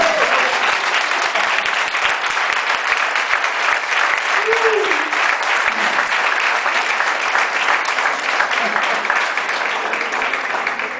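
A church congregation breaks into sustained applause, dense clapping that stays loud and continuous throughout, with a voice rising briefly over it.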